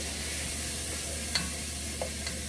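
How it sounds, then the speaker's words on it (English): Chopped onion frying in a pot for harira, a steady close sizzle with a few faint clicks of stirring, no talking. "add in your 1 chopped onion"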